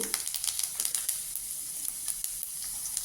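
Mustard seeds and cumin sizzling in hot oil over a slow flame: a continuous close hiss dotted with quick, irregular crackling pops of the seeds.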